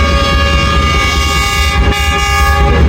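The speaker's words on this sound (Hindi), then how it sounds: "कोई ना रावलपिंडी 8 डाउन तेज़गाम उड़ते हुए जा रही है जी।" Rawalpindi-bound 8 Down Tezgam express racing past behind a GU40 locomotive, sounding a loud, sustained horn over the heavy rumble and rattle of its passing carriages.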